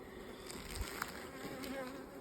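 Native bees buzz steadily inside an opened beehive during a hive inspection, a soft continuous hum of many insects, quiet and close, with no talking.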